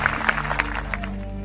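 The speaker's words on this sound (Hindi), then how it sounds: "इनके लिए ताली बजा दीजिए।" An audience claps for a visiting district judge at a Christian worship gathering, a short burst of scattered hand claps over a sustained background tone.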